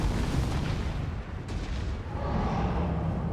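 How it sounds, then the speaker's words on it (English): Dense, continuous rumbling blasts and roaring booms of meteors raining down and exploding in the video game Elden Gauntlet fill the whole stretch, loud and relentless with no pauses. "raining down meteors that then also separately explode."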